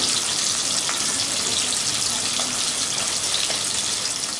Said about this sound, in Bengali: ইলিশ মাছ এমনিতেই তৈলাক্ত, ভাজার সময় তেল ছিটকাতে পারে, তাই সাবধানে ভাজতে হবে